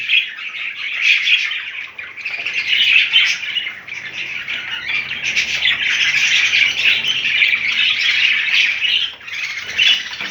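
Several budgerigars, albino hens among them, chirp and squawk continuously in a home breeding setup, a dense, steady chorus of shrill calls close by with no voices.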